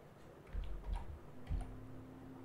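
A few soft, close keystrokes on a computer keyboard type into a Windows 10 search bar, quiet clicks spread over a couple of seconds against a low background hum.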